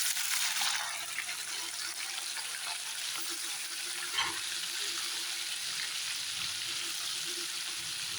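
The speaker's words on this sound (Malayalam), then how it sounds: "ഞാൻ ഇതെല്ലാം ഒന്ന് വറുക്കാൻ പോവുകയാണേ. എണ്ണ ചൂടായിട്ടുണ്ട്, നമുക്ക് ഇതിലോട്ട് എടുത്തിടാം." Chopped fish, sardines, dropped into hot oil and frying in a pan, with a loud initial burst of sizzle that settles into a steady, even crackle close by.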